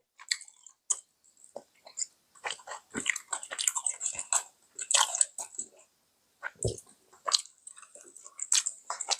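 Close, crisp bites and wet chewing of yubu chobap, fried tofu pockets stuffed with rice, as small irregular crunches and squishes come in quick bursts with short pauses between them.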